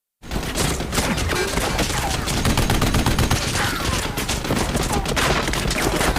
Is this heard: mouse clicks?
no